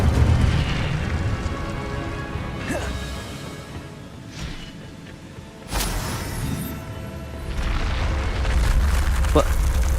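Incendio fire spell cast in Hogwarts Legacy, a loud roaring, rumbling burst of flame that swells and fades, with a sharp crackling hit near the middle and voices talking faintly underneath.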